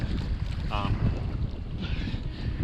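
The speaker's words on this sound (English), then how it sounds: "The wind has not died down, it's just stayed consistent." Steady wind sweeping across the Yukon River during a paddling expedition: a constant broadband rush with low microphone buffeting and a brief faint tonal whistle, no voices.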